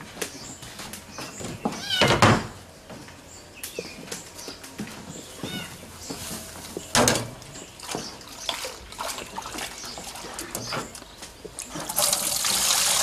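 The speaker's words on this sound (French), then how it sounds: "Vous lavez un peu à l'eau froide avant." Salt cod is rinsed in cold water, with splashing and running water in uneven bursts, a louder rush near the end, and a few bits of talk and background noise.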